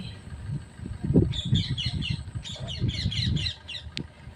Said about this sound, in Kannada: ಒಟ್ಟು 5 ಇದ್ದಾವೆ ನವಿಲುಗಳು, ಹೋಗ್ತಾ ಇದ್ದಾವೆ